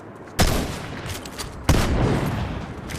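A pump shotgun fires twice in a video game match, two loud booming blasts about a second apart, each with a lingering rumbling tail.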